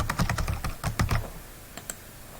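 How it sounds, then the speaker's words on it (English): Quick bursts of typing on a computer keyboard, close and crisp, with a fast run of key clicks that slows to a few isolated taps and then stops. No voices. "Just type here."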